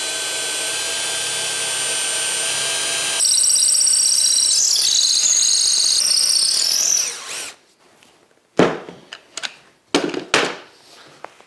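Power drill with a FAMAG bit boring into wood in a workshop, a steady loud whine that rises in pitch partway through and then cuts off, followed by several sharp knocks and clatters from close by.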